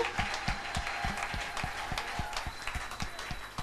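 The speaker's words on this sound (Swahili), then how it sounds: "Est-ce qu'on peut applaudir pour Jésus?" A congregation at a church service applauds: steady, brisk clapping from many hands, moderately loud and continuous, with a strong rhythmic clap beat running through it.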